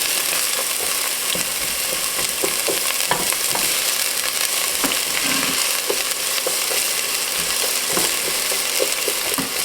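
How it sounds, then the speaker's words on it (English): Onion sautéing in a hot pan for Italian meatball and tortellini soup, a loud, steady hiss of frying with scattered small clicks and scrapes from stirring, close and continuous, no voices. "we're going to go ahead and throw in our onion. The pan is nice and hot."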